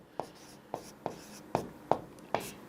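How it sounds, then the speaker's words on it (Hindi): Pen or chalk strokes writing out a Class 10 maths solution, six or seven crisp taps and scratches at a steady pace, close and fairly quiet. "तो अब हम यहाँ लिखेंगे"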